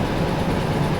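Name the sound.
train running in Derail Valley video game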